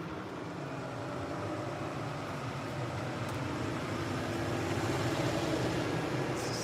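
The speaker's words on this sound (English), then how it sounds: "Can we get a quieter truck here, please?" A loud truck outside produces a steady, heavy low rumble that grows slightly louder as it passes. There is no talk over it.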